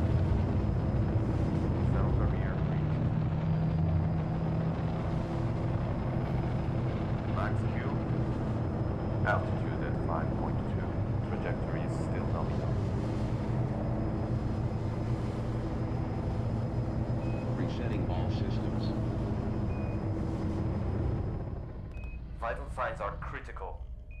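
A low, steady roar of a rocket launching in a spaceflight simulation video game, sustained and dense throughout, easing off near the end, with faint clicks and beeps on top.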